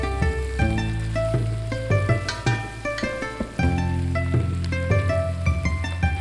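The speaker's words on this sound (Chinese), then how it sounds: "白酒调味， 最后放青椒块、大葱，翻炒均匀。" Pork intestines stir-fried with green pepper chunks and scallion in a hot wok, seasoned with soy sauce, sugar and liquor, giving a steady close sizzle under bright background music, with no talking.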